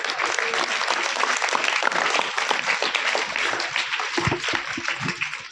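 Audience at a motivational seminar in a school hall clapping together, a dense and sustained burst of applause that fills the room at a steady level throughout, with a few stray voices mixed in.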